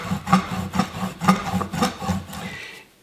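A rolling pin works over chocolate tart dough in a rhythmic run of soft rolling thumps, about two per second, close by, before fading out.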